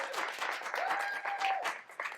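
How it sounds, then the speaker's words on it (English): Audience applause at a poetry slam in a public library, a dense steady wash of clapping lasting the whole stretch at moderate loudness, with a faint tonal squeal or whistle running through the middle. "Manual applause!"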